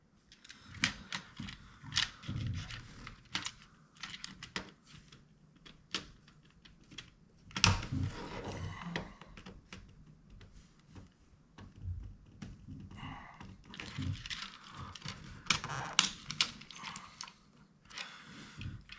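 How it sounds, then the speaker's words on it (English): A plastic pry tool works along the seam of a Wii Remote shell, button side down, producing scattered close clicks, ticks and small plastic snaps with quiet pauses between them. "So we'll just get our plastic prying tool, and you want to use something plastic so you don't mar the plastic."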